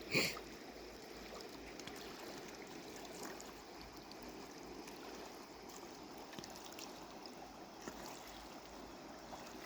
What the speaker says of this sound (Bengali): নদীর জলের শব্দ শুনতে পাচ্ছেন কীরকম।